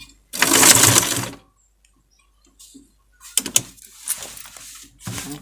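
Sewing machine stitching a zipper into fabric, a loud whirring burst followed by a pause, then shorter, rougher bursts of stitching with quieter gaps, close by and without talk.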